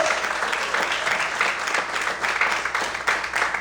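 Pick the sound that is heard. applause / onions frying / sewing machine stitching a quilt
applause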